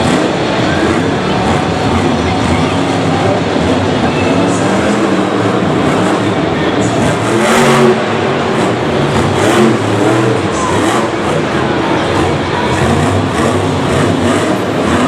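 The Earthshaker monster truck roars loudly and continuously as it spins donuts in the dirt at a Monster Jam show in Singapore, its engine revving hard under a constant wash of crowd and arena noise.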